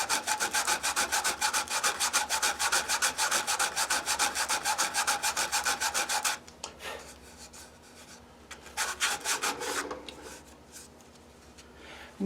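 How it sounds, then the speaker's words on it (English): Hand sanding a small live edge cherry wood bowl with abrasive paper: steady, rapid rasping strokes, close and loud for about six seconds, then quieter intermittent rubbing. "I also want to do some sanding right there."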